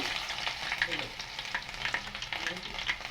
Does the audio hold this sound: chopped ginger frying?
yes